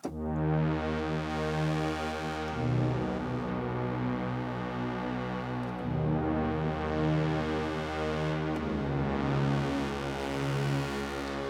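A thick, sustained Dave Smith Tetra synthesizer drone preset with wide, shifting harmonics, swelling and changing chord tone every few seconds, loud and continuous with no voices.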